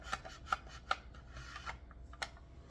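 A knife scraping and rasping around the edge of an air fryer pan holding a block of feta with tomatoes, a quiet run of short scratchy strokes with a few sharper clicks, close and with no talk.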